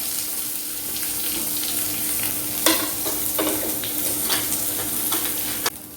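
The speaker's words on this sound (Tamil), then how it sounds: "காஞ்ச மிளகாய் போட்டதுக்கப்புறம் அதில் வெங்காயம் போடுறேன்" Onions frying with dried red chillies in a pan for a banana-flower and drumstick-leaf stir-fry, a steady close sizzle with scraping stir strokes and a couple of sharper clinks, no talking.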